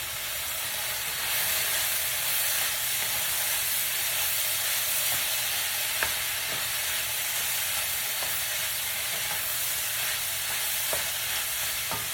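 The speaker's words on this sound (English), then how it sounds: "drop my meat back in the pan" Meat dropped back into a hot frying pan sizzles with a steady, close hiss, broken by a few small pops and stirring clicks, without talk.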